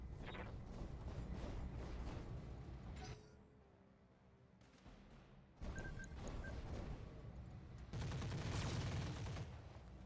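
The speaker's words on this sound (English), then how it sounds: "Only machine gun hits on the rear torso." In the Roguetech mech game, machine-gun fire rattles against a mech's armor in sustained metallic bursts, pausing briefly before two more loud volleys of rapid clattering hits.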